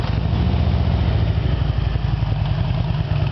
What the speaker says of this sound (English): And this baby's got some Rhine exhaust. And I'm gonna play them for you.